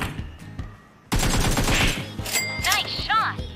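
Bursts of loud automatic gunfire in PUBG Mobile, starting after a quiet second and continuing in rapid cracks with ricochet-like whines, while a player talks in the background.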